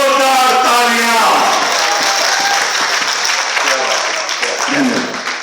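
Loud, sustained audience applause fills a hall at a Bhojpuri film awards ceremony in Patna, dense clapping under an announcer's voice at the start and continuing steadily to the end.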